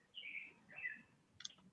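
A bird in Costa Rica gives two soft whistled chirps followed by a quick, sharper note, faint and somewhat distant against a quiet background.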